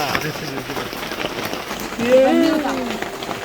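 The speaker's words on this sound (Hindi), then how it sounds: "बट यहाँ पे इतनी ज़्यादा बारिश है" Heavy monsoon rain falls at Matheran near Louisa Point, making a steady, close hiss of drops on surfaces while a person talks over it.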